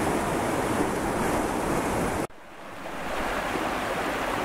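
A small woodland stream running high after several days of rain, swollen into rapids in the forest near Laval-Dieu and Château-Regnault, rushes as a loud, steady broadband roar with a brief dip partway through.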